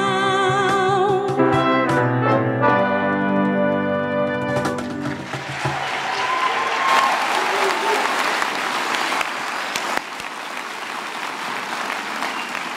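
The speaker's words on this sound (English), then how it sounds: "Give them another round of applause, please." Graduation ceremony audience bursts into sustained applause after a musical performance, the clapping swelling to a dense, steady roar that runs the full length, with the final notes of the music fading beneath it at the start.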